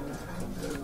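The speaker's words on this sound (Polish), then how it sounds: "Tyle gołębi jest po sezonie lotowym, tak jak widać." Soft cooing of racing pigeons in a loft, low and murmuring, close by in a brief snippet with faint background noise.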